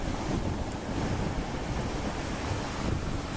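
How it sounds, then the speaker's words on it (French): Waves crash against the base of a cliff, a constant loud rushing roar of surf mixed with heavy wind buffeting the microphone, no pauses and no voices. "vagues tapent la base de la falaise"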